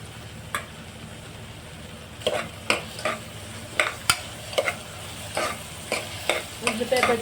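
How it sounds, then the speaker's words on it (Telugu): Onion and green chilli frying in oil for mutton curry, a soft steady sizzle broken by a series of sharp spatula scrapes and stirring knocks against the pan, growing more frequent toward the end. "కూరకు సరిపడిన అంత ఆయిల్ వేసుకొని ఆయిల్లో ఉల్లిపాయ పచ్చిమిరపకాయ"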